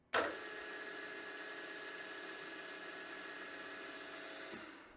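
A boring head spins at 500 RPM on a machine, a steady whirring motor drone that starts abruptly, holds an even pitch and then begins winding down at the end.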